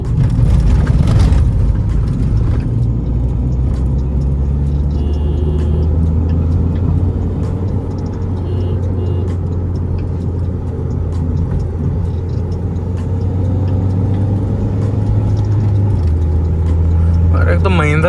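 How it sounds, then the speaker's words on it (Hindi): A Mahindra XUV500 driven at speed with a vibration problem after wheel balancing, giving a steady low engine and road rumble with fluctuating drone while someone talks over it. "और अभी आपको दिखाता हूँ मैं गाड़ी भगा के कि वो वाइब्रेशन कैसे आ रही है।"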